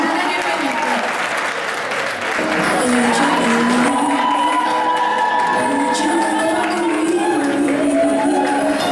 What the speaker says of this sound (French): On applaudit encore pour elle.